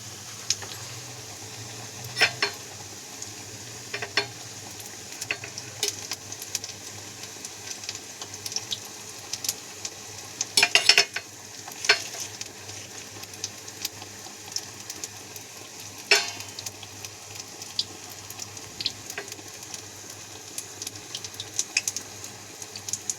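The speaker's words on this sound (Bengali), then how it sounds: "বেশি বেসনও লাগে না, হালকা করে ভাজা" Shiuli leaves coated in a light gram flour batter fry in hot oil, giving a steady close sizzle with occasional sharp clinks and scrapes of a utensil against the pan, and no talking.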